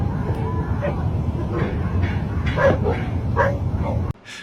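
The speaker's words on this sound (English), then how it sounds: "It was of a woman screaming and dogs barking in the distance." Dogs bark and yip in the distance on a dark evening at a campsite in the Appalachian Mountains, scattered barks rising over a steady low background rumble before the sound cuts off abruptly.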